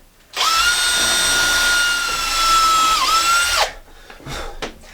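A power drill pre-drilling wood for deck nails whines at high speed for about three seconds, dipping briefly under load before stopping, followed by a few faint knocks and rattles.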